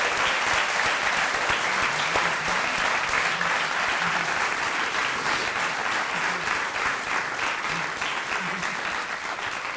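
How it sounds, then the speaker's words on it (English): Sustained audience applause at a city volunteer recognition ceremony in Salem, dense, steady clapping from a large crowd for the full duration, loud and even with no speech over it. "Let's give all of our amazing volunteers one more round of applause."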